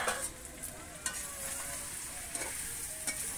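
Duck curry frying in a pan, a faint steady sizzle with occasional soft scrapes and taps as a spoon stirs the meat, close and quiet.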